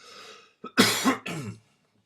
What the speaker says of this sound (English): Morning cough.